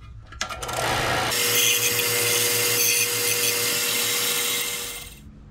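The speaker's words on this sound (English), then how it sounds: "I'll just give it a little sanding first." A steady, buzzing mechanical whir of a sander working PVC pipe, starting after a brief rattle and running continuously before cutting off.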